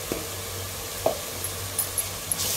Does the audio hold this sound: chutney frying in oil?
yes